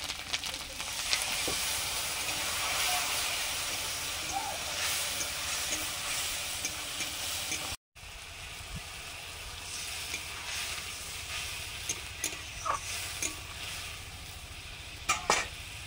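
Tomato, chilli, turmeric, cumin and coriander spices fry in a pan with a steady, dense sizzle, close and continuous, with a brief dropout midway and a few scraping stirs near the end.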